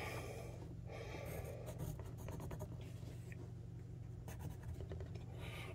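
A pen scratches across paper while sketching a bicycle, close and faint, with quick irregular strokes and scrapes over a low steady background hum.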